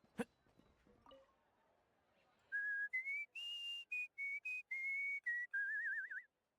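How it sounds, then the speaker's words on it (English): A character in the Genshin Impact video game whistles a bright, cheerful tune in short separate notes, ending on a warbling trill, clear and close after a few faint knocks. "Good whistling. In a good mood, I see."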